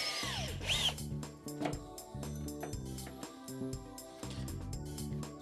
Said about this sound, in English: Never put your hand behind the drill in case you push too hard and it goes straight through.